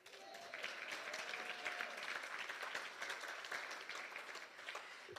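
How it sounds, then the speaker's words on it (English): An audience at a mayoral candidates' forum applauds steadily for several seconds, a dense, fairly faint clatter of many hands heard from a distance. "You can applaud."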